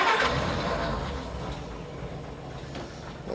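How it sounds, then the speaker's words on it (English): An old 1956 Willys truck engine turns over briefly and catches, settling into a steady low rumble close by. "Now listen how easy she cranks."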